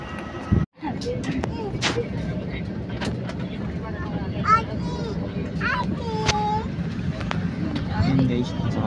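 Passengers board a plane on a Manila to Mindanao flight, with a constant babble of cabin chatter, people shuffling, and a low engine or ventilation hum throughout, plus one brief dropout early on.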